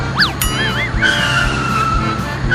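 Cartoon auto-rickshaw tempo racing fast and swerving, with a steady engine drone under rising and falling whistling squeals like tires skidding, loud and close.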